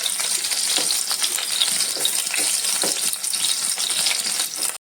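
Bitter gourd pieces fry in a pan as an even, crackling sizzle, with little pops and light stirring scrapes scattered through it, close and steady, without any talk.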